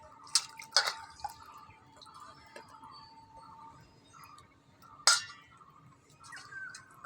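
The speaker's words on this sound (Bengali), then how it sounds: "আমি সবজিটা ধুয়ে নিচ্ছি।" Water drips and splashes in a kitchen as vegetables are rinsed for a pabda fish recipe, a few sharp close drops with soft trickling and clinks between them.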